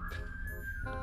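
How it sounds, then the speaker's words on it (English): A character whistles in the Roblox game Corridor, a steady sustained whistle tone held for about a second over a low background hum. "Oh, this guy's whistling."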